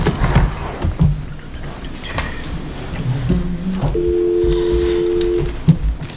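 Telephone keypad tones ring from a phone line during a school district board meeting, with short steady beeps and then a longer sustained tone, over faint room murmur and rustling.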